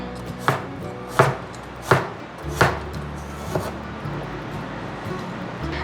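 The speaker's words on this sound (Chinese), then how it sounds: "把姜切丝" Ginger being sliced into shreds with a knife on a board: a series of sharp, evenly spaced chops, about five strong strikes followed by lighter taps, close and clear with no talking.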